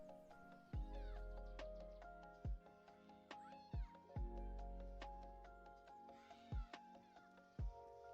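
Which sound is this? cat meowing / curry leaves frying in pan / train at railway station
cat meowing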